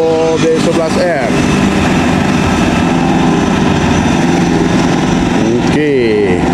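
A Volvo B11R diesel bus engine idles loudly with a deep, steady rumble, while voices and some brief tonal sounds rise over it.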